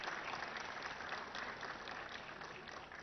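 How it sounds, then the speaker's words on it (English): Applause from an audience at a corporate event in Hyderabad, steady dense clapping filling the whole stretch at an even level, close and continuous with no voices over it. "deserve a huge round of applause."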